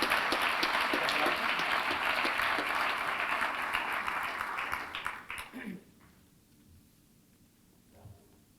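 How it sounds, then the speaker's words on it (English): An awards ceremony audience applauds loudly for about five seconds, then the clapping thins out and stops, leaving a quiet room with a faint stir. "So a round of applause for our highly commended, the Climate Venture Capital Fund."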